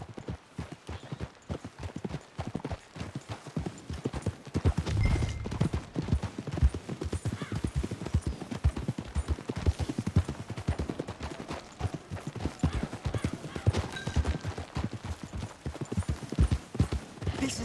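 Horse hooves clip-clop steadily and continuously in Red Dead Redemption 2, a dense, even trotting rhythm on dirt lasting throughout, moderately loud with no talking.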